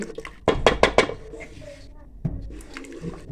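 A spoon or ladle clinks and scrapes in a pot while Kashmiri daal chawal is mixed, several quick metallic knocks near the start followed by softer stirring and a later clatter, with someone speaking over it.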